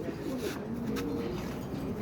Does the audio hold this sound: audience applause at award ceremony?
no